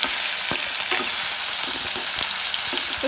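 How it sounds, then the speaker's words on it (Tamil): Tomatoes fry in oil for chana masala, a dense, steady sizzle up close, broken by occasional scraping stirs. "இப்போது தக்காளி போட்டுக்கணுங்க. நல்லா எண்ணெயிலே ஃப்ரை பண்ணுங்க"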